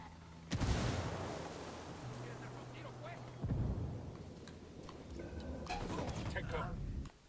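A frag grenade blast in the video game Ghost Recon Wildlands: a sudden loud boom with a long rumbling decay, followed by a second heavy detonation and further crackling gunfire-like bursts, with voices in the mix.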